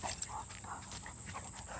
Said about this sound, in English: We got a little dog, we got big dog,